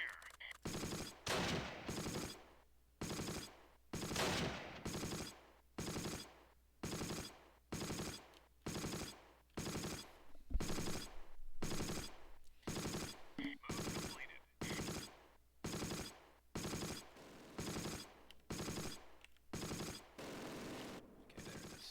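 Machine gun fire in the Close Combat video game: steady, evenly spaced bursts repeat for the whole stretch, loud and close with short gaps between them.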